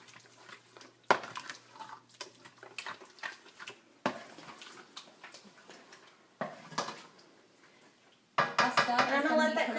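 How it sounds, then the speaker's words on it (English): A utensil scrapes and clinks around a pot of homemade spaghetti sauce set to medium heat, irregular knocks and swishes over several seconds, with a louder sizzling wash near the end. "stir it all up"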